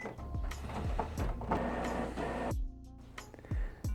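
An Epson WorkForce WF-3640 inkjet printer runs a printhead cleaning cycle, giving a quick series of mechanical clicks and thumps with short motor whirs between them, close and fairly quiet.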